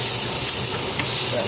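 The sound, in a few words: bacon frying in a pan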